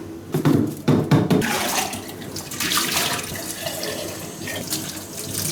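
Tap water runs into a teapot during cleaning, a steady splashing fill with sharper bursts and gurgles early on, heard close and alone.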